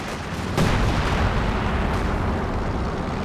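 Howitzer artillery fire in the Company of Heroes 2 video game: a sharp, loud boom followed by a rumbling tail, then a fainter second shot amid dense battle noise.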